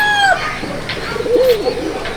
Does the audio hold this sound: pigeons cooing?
yes